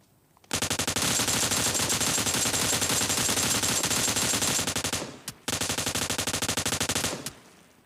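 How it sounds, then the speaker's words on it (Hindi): Sustained M249 machine gun bursts in a video game, firing from a house rooftop: loud, dense rapid-fire rattle for about four and a half seconds, a brief pause, then another burst of roughly two seconds that trails off. "M249 इस घर के छत पे चला।"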